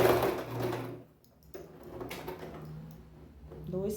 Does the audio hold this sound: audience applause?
no